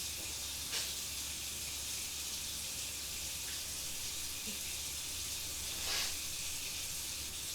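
A cutting board is rinsed under a running kitchen tap, giving a steady, even hiss of flowing water that continues throughout with only small shifts in the splash.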